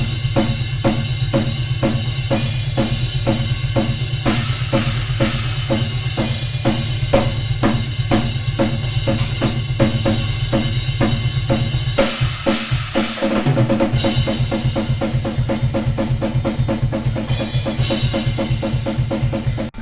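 A drum kit plays a steady groove captured by room microphones placed near the front wall of a rehearsal space, with regular kick and snare hits, washy cymbals and a sustained low tone, loud and roomy, with a fill and tempo shift near the end.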